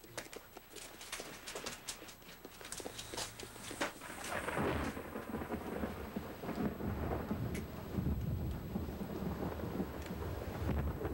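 Low rolling thunder rumbles over steady rainfall, the storm building and growing louder partway through.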